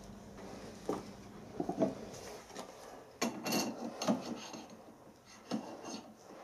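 A metal lathe drive shaft is cleaned up in its centre section before welding, producing close, scattered scraping and rasping strokes, each short and separated by brief pauses.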